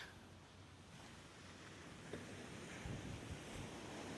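Sea waves wash onto the shore at Dhanushkodi with a continuous surf roar that swells slightly toward the end, mixed with steady wind buffeting the microphone and no voices.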